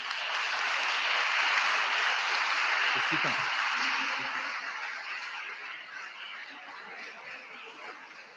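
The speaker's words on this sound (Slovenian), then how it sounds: "Tako da en velik aplavz za njo." A crowd applauds at a school graduation ceremony in a dense, steady wash of clapping that slowly fades. A few faint chuckles come through midway.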